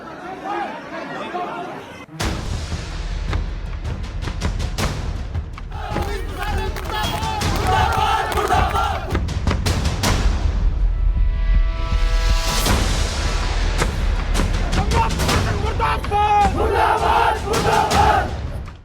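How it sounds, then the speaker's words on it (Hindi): Hundreds of people scuffle with police in a loud uproar, with dense crowd shouting and chatter, sharp bangs and bursts of yelling rising and falling throughout. "सैकड़ों लोगों की जमा भीड़, पुलिस के साथ हाथापाई करते लोग और भारी बवाल।"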